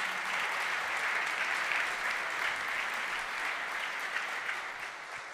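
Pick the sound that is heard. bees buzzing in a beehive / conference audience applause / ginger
conference audience applause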